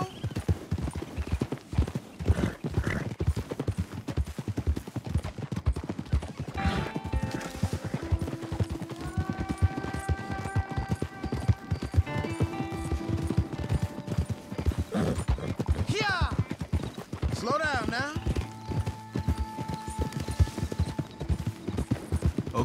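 Horses trotting in the video game Red Dead Redemption 2, with a steady rapid clip-clop of hooves throughout, occasional whinnies and snorts, and faint voices now and then.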